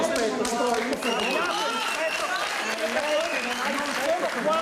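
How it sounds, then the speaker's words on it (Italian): Applause from an audience at a political meeting in Venice, a steady dense patter of clapping heard close, with voices talking over it throughout. "C'è un applauso"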